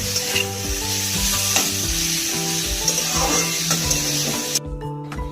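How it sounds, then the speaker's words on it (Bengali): Meat marinated in salt, turmeric and chili powder fries with onions in a pan, giving a constant sizzling hiss under steady stirring, while music plays throughout and drops out abruptly near the end. "যে মাংসটা এখন মা পেঁয়াজ দিয়ে একটু ভালো করে ভেজে নিচ্ছে।"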